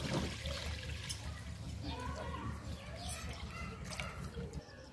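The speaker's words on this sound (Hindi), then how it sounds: "कढ़ाही में दूध डालेंगे" Milk splashes and trickles into a kadhai for village-style malai kulfi, a soft, close liquid pour with light gurgling beneath a speaking voice.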